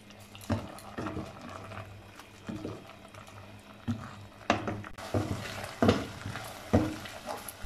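Minced meat (keema) sizzles in a pan as its water cooks off, a low bubbling fry broken by repeated scraping stirs of a spoon, steady and close.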